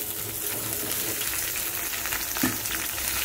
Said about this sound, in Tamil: இதோட நம்ம உடச்சி வச்ச பச்சை மிளகாய் 1/2 கிலோ பச்சை மிளகாய் இதில் நான் சேர்த்துக்கிறேன்.